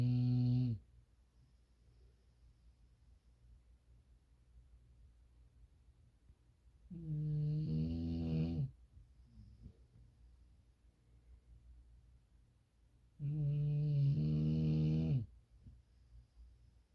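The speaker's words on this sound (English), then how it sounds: "this girl is snoring so loud I can't sleep" An English Bulldog snores loudly in three long, rumbling bursts several seconds apart, with quiet breathing between them and no voices.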